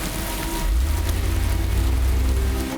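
Steady, heavy rain falling in London, a dense continuous hiss with a low rumble beneath, loud and close with no voices.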